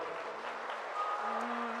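Audience clapping at a mushaira poetry gathering in a marriage hall in Bansi, Siddharthnagar: a steady, dense wash of applause that holds at even loudness and swells slightly toward the end.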